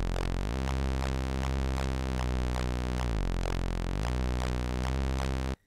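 A dry Serum synth preset with effects off plays rhythmic repeated notes with bright buzzy harmonics, steady and loud, stopping abruptly at the end.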